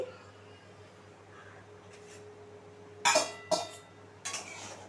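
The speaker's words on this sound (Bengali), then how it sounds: "এবারে আমি আগে থেকে ভেজে রাখা যে পটলগুলো দিয়ে দিচ্ছি" Fried pointed gourds being added to a simmering poppy-seed gravy in a pan, heard as three sharp clinks and clatters of a utensil against the pan near the end, close by over a low kitchen hum.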